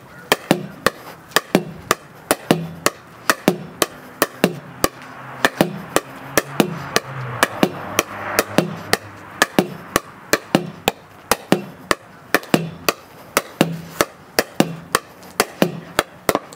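A pickleball paddle hits the ball against a wall in a home crisscross drill, producing a long, steady series of sharp, loud pops, each hit followed by the ball's smack off the wall, with brief faint talking at times.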